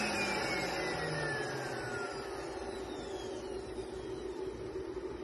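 Two cooling fans inside a Lagenda B322 run with a steady, loud whirring hum that stays constant throughout, while a faint high whine slowly glides downward in pitch.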